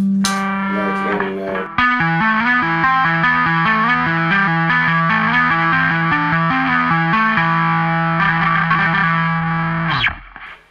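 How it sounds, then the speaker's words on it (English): Electric guitar run through a Billy Sheehan signature drive pedal for lead playing, giving a loud, heavily distorted tone with sustained notes and changing pitches that ring steadily for about ten seconds, then stop abruptly, with no voices. "the distortion of the Billy Sheehan signature drive"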